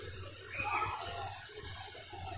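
Flowing water at Aintharuvi, the five-stream waterfall: a steady, rushing wash of water at moderate level, continuous and unbroken, with no voices.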